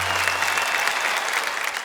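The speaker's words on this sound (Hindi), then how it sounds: "इनके लिए जरा तालियां बजाइए।" Audience applause breaks out at a Hindi poetry gathering, a dense, steady clapping from a crowd that carries evenly through the short moment.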